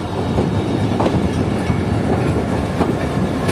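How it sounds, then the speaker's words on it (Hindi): The HMU30 locomotive rolls in at Sukkur railway station to couple onto the back of the Sukkur Express, a steady, loud rumble of wheels and carriages with faint clickety-clack, no voices. "ये कराची साइड का HMU30 ट्रेन की बैक साइड पर लगने के लिए आ चुका है यहाँ पर"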